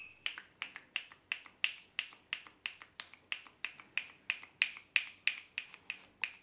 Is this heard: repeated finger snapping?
yes